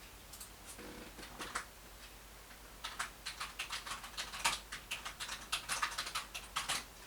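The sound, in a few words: typing a file name on a computer keyboard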